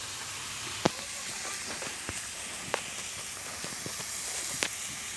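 Bitter gourd frying in a pan, a soft continuous sizzle and hiss with a few sharp pops and crackles scattered through, fairly quiet.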